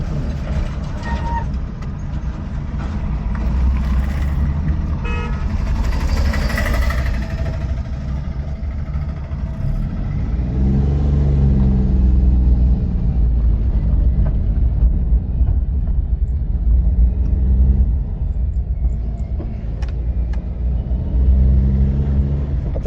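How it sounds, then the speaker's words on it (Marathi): A Maruti Omni van drives along with its engine rumbling loudly and steadily, the pitch rising and falling as gears change, heard from inside with no speech over the drone. "सेकंड गिअर टाकलाय त्यांनी. टाकला सेकंड गिअर. आता थर्ड टाकणार ते."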